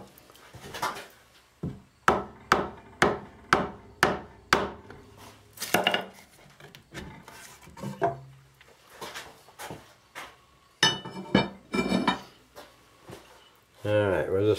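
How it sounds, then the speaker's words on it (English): A mallet taps a swamped flintlock barrel into its wooden stock, about a dozen sharp, close knocks in quick, uneven runs with pauses, and some faint voice sounds between them. "I'll put the barrel back in here and give it a few taps with the mallet."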